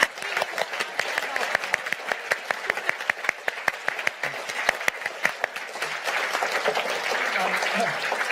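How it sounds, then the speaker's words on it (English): Sustained audience applause for event staff at the close of a panel discussion on AI, dense clapping with sharp individual claps standing out, steady and fairly loud throughout. "please give a huge round of applause to all the staff."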